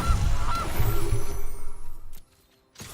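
Geese honk repeatedly in a game of MTG Arena, with loud overlapping calls through the first two seconds that thin out and fade toward the end.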